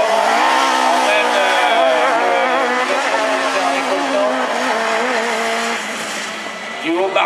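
A small Renault Twingo race car drives past at a competition near Châteauroux. Its engine is loud and close, revving high and holding a strained, rising and falling note for several seconds, with a commentator talking over it.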